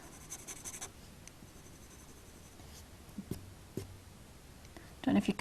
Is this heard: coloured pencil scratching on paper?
yes